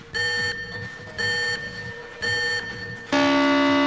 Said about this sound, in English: First, we will have a countdown followed by a buzzer that sounds like this.